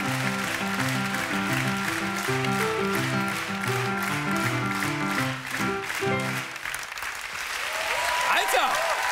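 A television studio audience applauds steadily and loudly while a keyboard plays a repeating chord pattern underneath, the music stopping partway as the clapping continues on its own.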